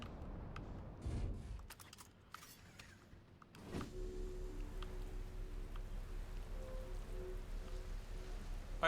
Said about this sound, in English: this planet does have one positive thing for it, is the fact that it has very soothing rain noises